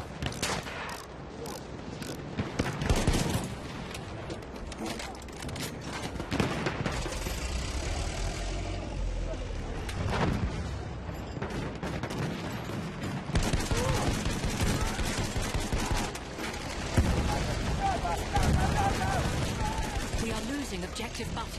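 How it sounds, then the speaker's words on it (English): Dense gunfire from a Battlefield 1 match, a sustained clatter of shots and bursts over engine rumble and battle noise, with players shouting over it throughout. "There's a machine gun!"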